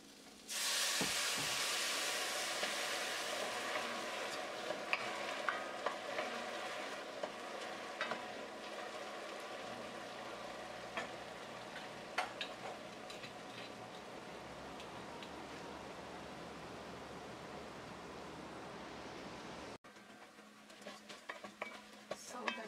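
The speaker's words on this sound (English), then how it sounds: "Stir it until your rice will absorb the wine" Risotto rice with half a cup of wine, stirred in a hot pan: a steady close sizzle runs throughout, broken by scraping stir strokes and small ticks, easing near the end.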